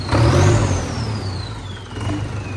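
A tractor engine revs loudly nearby before a village trolley-pulling contest, a rough mid-pitched roar that swells, dips slightly and climbs again, with a rising then falling whine.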